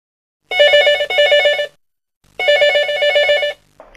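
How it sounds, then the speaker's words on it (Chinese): A telephone rings at an emergency 110 police command center in Lingui, Guilin, Guangxi, two loud electronic double-rings separated by a short pause, close and clear with no talk. "一个报警电话打到了广西桂林市临桂公安局的110指挥中心"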